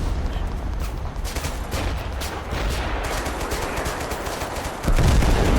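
In the video game Total Conflict: Resistance, gunfire called in by binoculars rattles as dense, continuous automatic shooting, loud and unbroken, with a heavier burst near the end and no speech over it.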